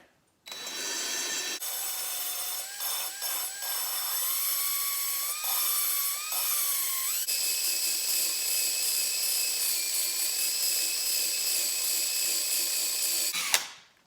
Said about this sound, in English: I am gonna hook this drill right up to the valve